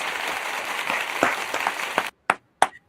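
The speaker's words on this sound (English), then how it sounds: "let's give a good old hand clap" Brief burst of hand clapping in a small group setting, a few hands clapping together for about two seconds before breaking into scattered, isolated claps.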